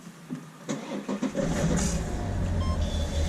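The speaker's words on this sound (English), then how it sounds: "So I'm going to start the car" A BMW F30 330d diesel engine cranks briefly, then catches and settles into a steady idle, close and fairly loud.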